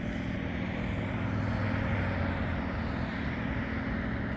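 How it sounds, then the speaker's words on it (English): A small airplane doing practice takeoffs and landings at an airfield gives off a steady, moderately distant engine and propeller drone that holds even throughout, with no talk. "So I watched this guy do some practice takeoffs and landings for a while"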